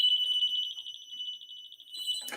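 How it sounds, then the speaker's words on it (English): An Escort Redline 360c radar detector sounds its alert: a rapid, even train of high electronic beeps, alone and close, cut off by a short noisy clatter at the end. "We'll unplug it and it should stop beeping immediately."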